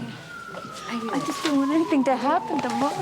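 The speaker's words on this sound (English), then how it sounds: "I think that's the ambulance now." A siren wails steadily in the distance, its tone slowly falling, while people talk anxiously over it.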